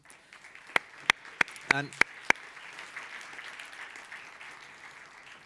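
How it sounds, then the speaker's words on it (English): Applause closing a panel at a culture summit: a handful of sharp, separate claps ring out near the microphone, then fade into a soft, distant patter of the audience clapping, with a brief spoken word early on. "we can close this second panel with a round of applause, please."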